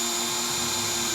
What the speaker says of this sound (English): I'm just going to drill a starter hole for that.